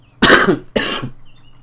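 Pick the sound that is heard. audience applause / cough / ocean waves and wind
cough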